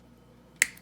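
Scissors make one crisp, quick snip through yarn while tassel earrings are trimmed, a single close click after a quiet stretch.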